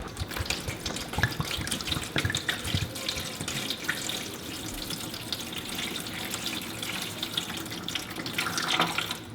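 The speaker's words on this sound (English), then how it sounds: "I'm going to fill it with water right now." Water runs steadily into the tank of a Honeywell evaporative indoor air cooler, a continuous splashing, gurgling pour at close range that swells slightly near the end, with no talking.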